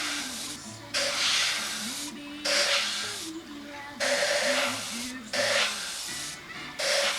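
An airbrush spraying ink onto a model aircraft, heard as five or six short bursts of bright hiss separated by brief pauses, with a voice murmuring in the background.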